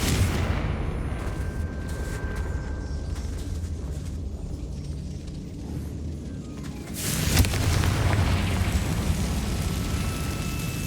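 Bombarda and Confringo spells explode in a mine area in Hogwarts Legacy. Steady low game ambience is interrupted by one loud, booming blast about two-thirds of the way through, which then rumbles on.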